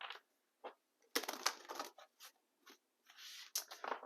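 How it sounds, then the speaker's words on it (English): A large oracle card deck is shuffled by hand in short, crisp bursts of papery riffling and slapping, close and quiet with brief pauses between the shuffles. "Let's do some initial shuffling."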